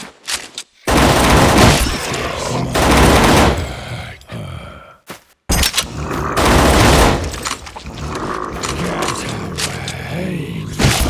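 Gunfire in NecroVisioN: Lost Company, loud close bursts of automatic fire broken by short silent gaps, with heavy booming impacts and clattering mechanisms between the volleys.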